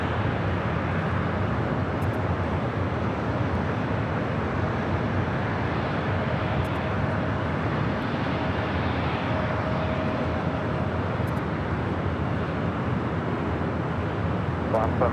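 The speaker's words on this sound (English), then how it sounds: "Following United Airlines Flight 802 coming up from Hong Kong with a 787-9 Dreamliner." A United Airlines Boeing 787-9 Dreamliner arriving from Hong Kong approaches LAX, a continuous broad jet roar holding steady over the airport surroundings.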